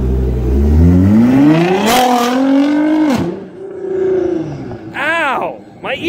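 A Nissan GT-R fitted with an Agency Power Valvetronic exhaust roars close and loud, its pitch climbing in long revs, then cutting off before several quick, rising blips of the throttle.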